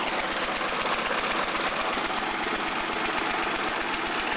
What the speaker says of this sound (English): Never heard a mower run like that before.